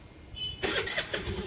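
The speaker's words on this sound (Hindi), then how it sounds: "बंद हो रही, गाड़ी चालू हो रही है।" A car engine catches and starts after stalling repeatedly, turning over with a burst of loud, broadband rumble that settles into a steady run near the microphone.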